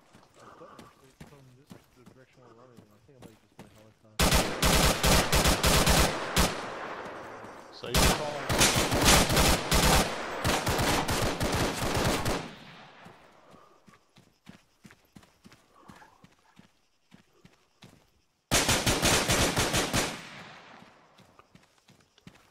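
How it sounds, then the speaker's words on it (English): Machine gun fire in the military video game ArmA 3: long, loud sustained automatic bursts in three separate stretches with brief pauses between them, plus scattered single shots in the quieter gaps. "Another gunfire."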